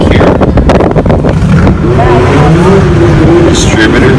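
Antique single-cylinder tractor engine running at a fair, a rhythmic low chugging under wind buffeting on the microphone, steady throughout and fairly close.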